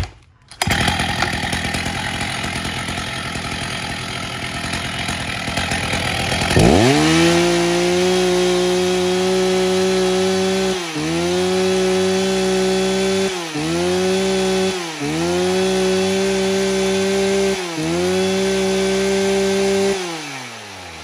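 Husqvarna 61 chainsaw, a Swedish-made saw in original condition, pulled into life after a stretch of handling noise, then idling and revving loudly up close with repeated throttle dips and surges, no voices over it.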